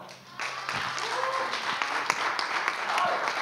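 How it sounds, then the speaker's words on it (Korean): At a church youth service during officer appointments, a small group breaks into applause after a brief quiet moment, steady clapping running for a few seconds with a low voice and tones underneath. "박수 한번 해줄까요?"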